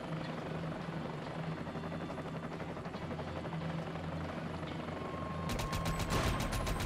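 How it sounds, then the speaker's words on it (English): Military helicopters approaching in the video game Army of Two, in the Lijiang River China mission, with a steady rotor thrum and whine that is loud and constant, then a burst of rapid gunfire near the end. "Choppers."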